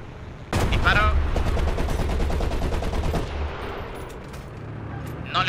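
Video game gunfire from a war game session, a dense burst of rapid machine-gun shots starting abruptly and rattling on for a few seconds, loud and close, followed by quieter game noise and a voice talking.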